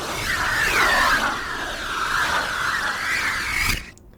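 White noise processed with a Doppler effect, a swirling, pitch-shifting whoosh that rises and falls like a passing object, then cuts off abruptly.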